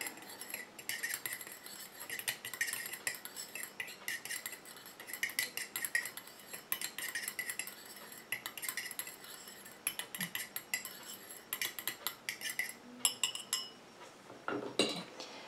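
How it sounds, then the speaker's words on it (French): Anti-fungal balm ingredients being stirred and mixed in a container, producing steady, close, light clinking and scraping of a utensil against the vessel, continuous and without talk. "Et je mélange tout ça."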